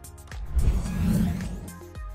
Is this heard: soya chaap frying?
no